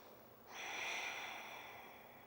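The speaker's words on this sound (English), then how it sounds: "Ujjayi breath." A single slow ujjayi breath during a yoga session, a soft, steady hiss of air through the throat that swells and then fades, faint and close.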